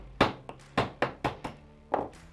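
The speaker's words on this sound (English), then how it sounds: "First thing to do will be knock out the cross pin that holds in the firing pin." A metal punch hammered against the cross pin in the breech bolt of a Winchester Model 190 rifle gives five or six sharp, close knocks at an uneven pace.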